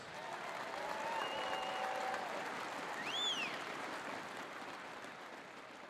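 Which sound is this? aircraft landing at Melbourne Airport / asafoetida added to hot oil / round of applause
round of applause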